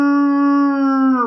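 A human voice imitates a wolf howl through cupped hands, a single loud, close, steady tone held for just over a second with a slight falling bend at the end.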